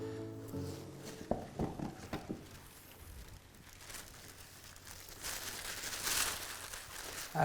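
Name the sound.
tissue paper crinkling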